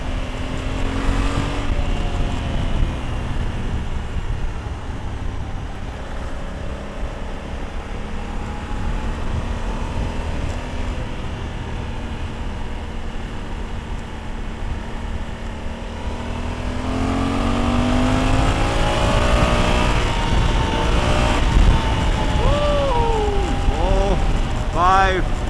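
A Honda Africa Twin CRF1100 motorcycle cruises in sixth gear with a steady engine drone and heavy wind rush, swelling slightly in pitch and loudness partway through.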